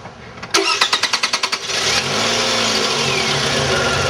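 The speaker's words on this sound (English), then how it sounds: "We're going to start the vehicle up." A car engine starting up in a vehicle fitted with a hydrogen generator: a quick series of about nine rhythmic starter cranks, then the engine catches and settles into a steady, close idle.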